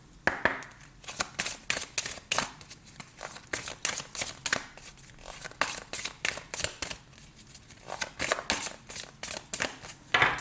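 Tarot cards shuffled by hand for a personal reading, a rapid run of crisp riffling bursts repeating in a steady rhythm, close and fairly quiet, with no talking.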